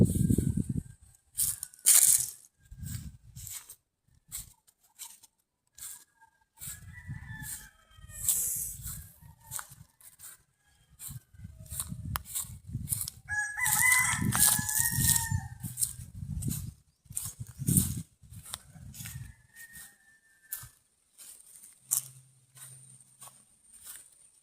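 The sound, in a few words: chickens and roosters crowing in the forest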